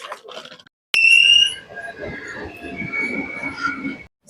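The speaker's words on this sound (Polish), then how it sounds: "jesteśmy w pociągu" Interior of a moving train in Rome, Italy, with a brief loud high alarm-like tone followed by a steady rumbling ride and rattling, while voices murmur in the background.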